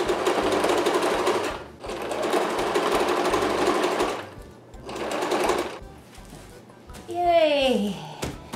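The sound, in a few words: sewing machine sewing old-clothes rug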